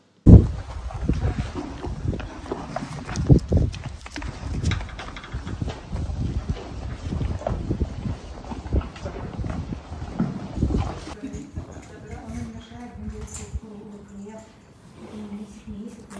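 Several horses shift about inside a stable, their hooves knocking in irregular clip-clops up close, with wind rumble and other movement noise throughout; after about eleven seconds the scene quietens to a softer hum and faint tones.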